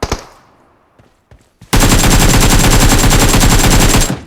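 Automatic gunfire in the PUBG Mobile battle royale game, a loud rapid burst of shots lasting over two seconds after a few faint clicks and thuds.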